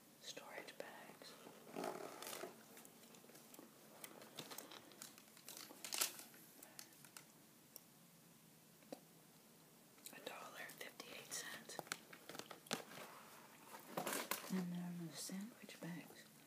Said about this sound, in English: And these gallon storage bags.